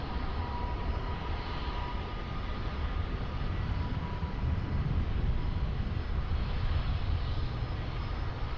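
Airliner taking off at Lisbon Airport, a steady broad engine roar that holds for the whole stretch, fairly distant and without voices.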